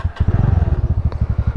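A scooter engine starts up and runs with a rapid, steady low putter of regular pulses, close and fairly loud, with a brief click partway through.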